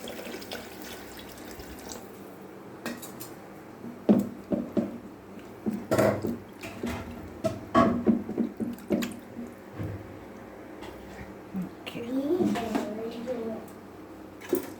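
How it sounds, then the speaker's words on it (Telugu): Water splashes and drips intermittently in a kitchen as it is poured into split moong lentils, with scattered wet knocks and a short pour, while a voice talks faintly at times. "పెసరపప్పులో నీళ్ళు పోసేసి"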